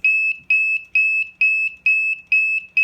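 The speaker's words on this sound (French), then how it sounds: "Fait que là, mon alarme est partie. J'ai un flasheur, j'ai un buzzer et tout." The alarm buzzer on a maple syrup evaporator with an automatic draw-off valve goes off, sounding sharp, loud, high-pitched beeps in a steady rapid rhythm, about two per second, with nothing else heard.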